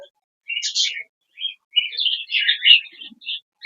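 Pet birds chirping in short, bright bursts of tweets and trills, close and fairly loud with brief gaps between calls.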